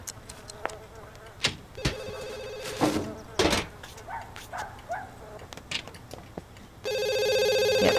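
A telephone rings in The Sims 2 video game, its electronic trill cutting in loud near the end of a quieter stretch filled with scattered clicks and soft game sounds, an earlier ring tone briefly sounding too.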